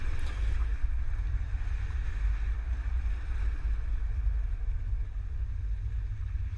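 A 2022 Toyota carrying a Hollywood Racks Destination four-bike rack drives a slalom test course, heard as a continuous low engine and road rumble with wind noise, steady and unbroken.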